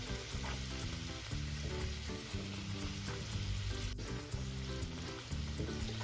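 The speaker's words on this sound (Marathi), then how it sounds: "इथे आपल्याला छान आलटून पलटून छान गोल्डन कलर येईपर्यंत पुरी तळून घ्यायची आहे" Masala puris made with yogurt deep-fry in hot oil, turned over until golden, a continuous bubbling sizzle with crackling pops close by and a sharp tick partway through.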